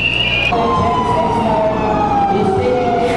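A loud wailing siren rises and falls continuously during a school earthquake drill, close and dominant, with a busy crowd-like background underneath.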